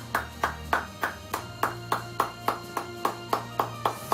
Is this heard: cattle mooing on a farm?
no